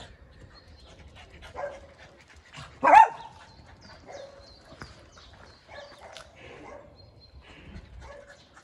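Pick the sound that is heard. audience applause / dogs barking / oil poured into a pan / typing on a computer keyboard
dogs barking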